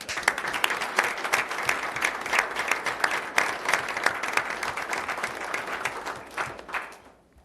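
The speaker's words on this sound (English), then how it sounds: "And let's give him a round of applause." Attendees at a city council meeting clap for a police officer being recognized, a full round of applause with distinct claps over a steady patter, fading out at the end.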